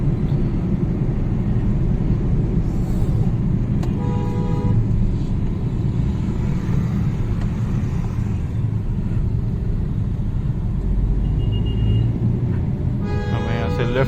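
Delhi road traffic heard from inside a moving car on Republic Day: a steady low engine and road rumble, with several short car horn toots near the middle and a cluster of horns at the end, while people talk throughout.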